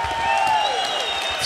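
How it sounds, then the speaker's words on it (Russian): Crowd applauding and cheering for a fighter at a TOP DOG fight night, a dense roar of clapping under a loud voice speaking over it. "аплодисменты!"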